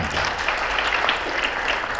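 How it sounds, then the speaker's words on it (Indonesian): An audience at a product launch event for Central Java small businesses applauds the President, a dense, steady wash of clapping lasting a couple of seconds with faint voices mixed in. "Tepuk tangan untuk Pak Presiden."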